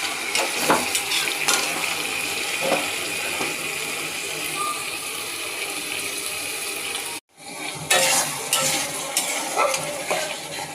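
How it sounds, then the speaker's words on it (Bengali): Spice masala frying in a pan for Malabar spinach: a steady hiss and sizzle with scattered stirring scrapes, briefly cut off near the end before resuming. "পুঁই শাকটা বাগার দেওয়ার জন্য মশলাটা কষিয়ে নিচ্ছি।"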